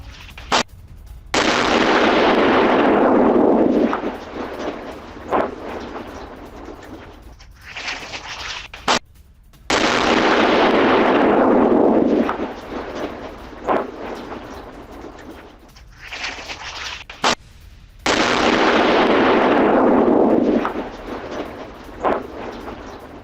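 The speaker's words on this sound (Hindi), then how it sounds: "ईरानी मिसाइल गिरने के बाद धमाका।" Repeated heavy booms of Iranian missile explosions in Tel Aviv, each a deep roaring blast that swells and fades, with quieter rumbling between them.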